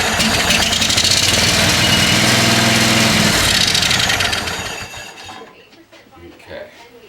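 A small Briggs engine with its carburettor choked runs roughly and loudly for several seconds, then sputters and fades out, leaving quiet with faint knocks and handling noise.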